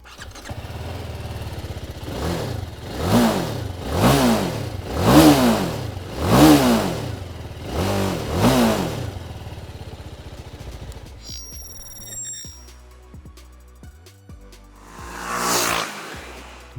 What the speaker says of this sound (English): But let me crank up the motorcycle and let you be the judge of that